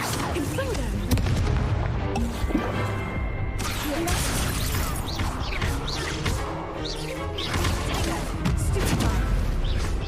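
Confringo fire-blast spell from the Hogwarts Legacy video game: repeated booming, crashing impacts and bursts in a dense game soundscape, loud and close, with a voice speaking over parts of it.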